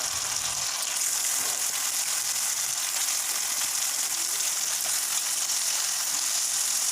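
Fresh chicken hits a hot pan for a Telugu-style chicken curry, giving a steady, bright sizzle that holds evenly the whole time with no talking.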